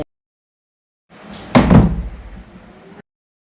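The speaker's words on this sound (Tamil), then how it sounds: "கதவை சாத்தி போடு" A kitchen door is pushed shut at home, a brief rustle of movement followed by a single firm, close thud as it closes, then a short fading rattle before silence.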